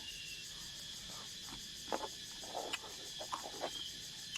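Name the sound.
cicadas and insects chirping in rural evening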